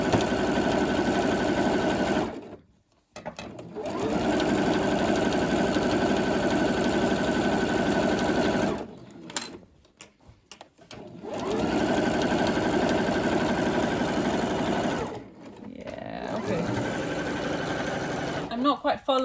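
A serger runs in three long bursts while sewing a seam on wide trousers, each stretch loud and steady, separated by short pauses with soft handling noise before the final run.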